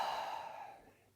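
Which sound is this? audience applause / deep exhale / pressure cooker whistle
deep exhale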